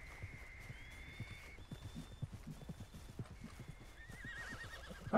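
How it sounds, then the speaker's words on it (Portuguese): Horse hooves clip-clop steadily in a video game while a horse whinnies loudly near the end, with soft game sounds in the background. "Cavalo, né? Esse cavalo, cara."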